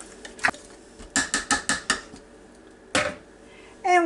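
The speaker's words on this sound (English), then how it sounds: "And we're going to put the lid on it." Metal lid set onto a pot of ground venison stew, a quick run of clanks and scraping rattles as it is fitted, followed by a couple of separate louder knocks, close by with no talking.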